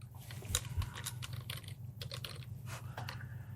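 Quick, irregular clatter of computer keyboard keys being typed at a desk, soft and close, with short pauses between bursts.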